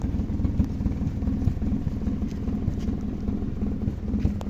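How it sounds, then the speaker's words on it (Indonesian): A 1991 Honda Grand Civic engine idles steadily nearby, a low, even rumble that holds alone and unbroken throughout. "Ini kondisi mesin nyala ya guys"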